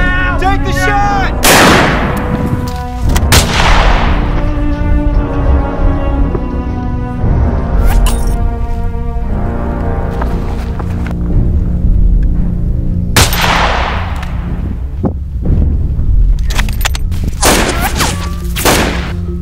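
Gunfire in a tense film standoff scene, with several sharp broadband shots and heavy booms cutting through a loud, continuous dramatic score.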